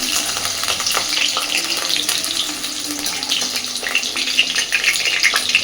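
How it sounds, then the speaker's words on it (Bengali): Potatoes fry in a pan of hot oil, giving a steady, close sizzling hiss with small crackles and pops throughout and no talking. "আমি এখানে আলু আর ফুলকপিটা আলাদা আলাদা ভাজছি"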